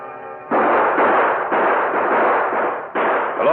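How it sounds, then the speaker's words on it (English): Rapid bursts of gunfire in an old-time Lone Ranger radio western drama, a loud continuous volley of shots lasting a few seconds with a brief pause before another burst. "The Lone Ranger and Tonto saw the gunfire."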